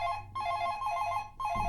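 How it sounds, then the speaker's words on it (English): An electronic telephone ringtone sounds alone in repeated bursts, each a bright steady warbling tone with short gaps between them, close and clear. "If nobody had to answer the phone, I might have to."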